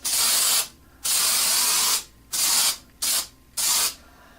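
An aerosol can of spray adhesive hisses in five separate bursts, some long and some short, with brief silent gaps between them, sprayed close by onto acoustic sound panels.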